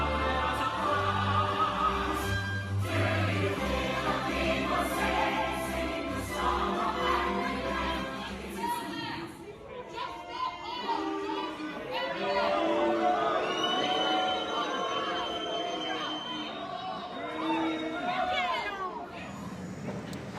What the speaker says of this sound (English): you can hear the boos and the jeers there from the audience and some comments that were shouting out